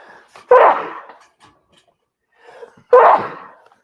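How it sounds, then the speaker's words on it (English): Two loud, close sneezes about two and a half seconds apart, each preceded by a quick inhaling gasp. "I think I have to sneeze again."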